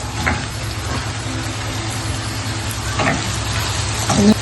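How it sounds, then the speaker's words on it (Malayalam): Garlic and onion sautéing in a pan for beef perattu, a constant soft sizzle with a few scraping stir strokes and a low steady hum underneath; no voices. "വെളുത്തുള്ളിയെല്ലാം ഇട്ടൊന്ന് വാടി വരുമ്പോഴത്തേക്ക് അതിലേക്ക് നമുക്ക് സവാള ഇട്ട് കൊടുക്കാം"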